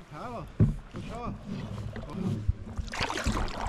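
Paddle strokes splash and water swishes against a canoe pushing off on the Yukon River, mixed with brief voices and a rising rush of water at the end.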